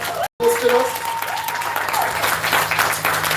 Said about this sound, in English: Can we have the Boardless team give a big round of applause?